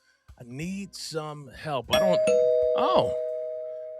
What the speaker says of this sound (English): I guess doorbells do work here in the hotel.